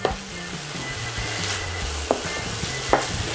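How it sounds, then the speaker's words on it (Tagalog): Ground pork sautés with garlic, tomato and onion in a pan, a continuous close sizzle broken by a couple of sharp utensil taps against the pan. "So, continue lang natin na pag-gisa hanggang mag-brown yung ating pork."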